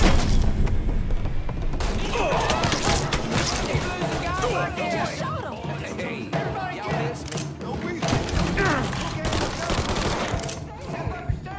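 Sustained gunfire in Mafia III, with rapid bursts, booms and thuds running throughout, loud and dense, while voices shout over the shooting.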